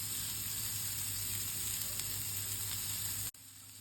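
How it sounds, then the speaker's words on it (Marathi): Chopped green chilli and onion frying in oil in a pan, giving a steady, dense sizzle that holds for several seconds before cutting off abruptly, with no talking. "आता इथे मी आपण जे कटिंग केलेलं आहे ते सगळं टाकून घेणार आहे. मिरची, कांदा, कांद्याला थोडा रेडनेस येईपर्यंत त्याला परतून घ्या."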